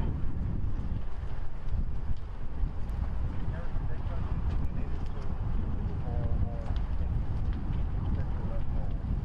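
Strong wind blows during the Santa Rosa wildfire, a constant rough roar buffeting the microphone with low rumbling gusts throughout.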